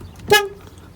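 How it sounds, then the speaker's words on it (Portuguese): A 2023 Volkswagen Polo GTS car horn gives one short, loud toot with a bright buzzy tone that trails off quickly. There are no voices, only faint background hum. "Realmente a buzina do Polo é muito feia, cara."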